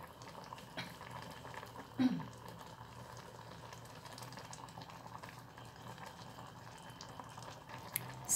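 Coconut milk curry with beef and cassia leaves heating in a pot toward a boil, a faint steady bubbling simmer with a soft knock near the start; no clear speech over it.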